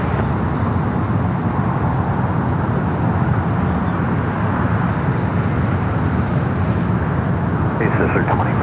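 A Delta airliner arriving from Mexico City lands on runway 25 left at LAX, its steady broadband engine roar continuous and fairly loud throughout, with traffic-like rumble and no clear talk.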